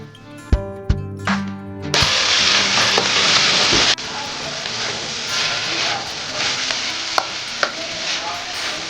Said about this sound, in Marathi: हे सर्व हलवून घेऊयात.